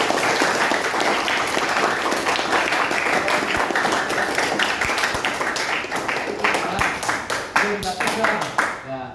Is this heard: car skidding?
no